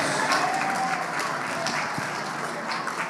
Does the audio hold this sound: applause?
yes